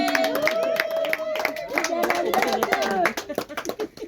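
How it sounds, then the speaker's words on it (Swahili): Audience at a family thanksgiving celebration clapping in a quick run of hand claps, mixed with voices talking and singing over the top. "Tupigie makofi."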